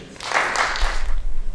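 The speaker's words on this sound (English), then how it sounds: "let's give a big round of applause for Lyndon" An audience at a 2015 charity drive talent show claps for a dance performer, a short burst of moderate applause that swells briefly, with a low thump from the stage sound system underneath.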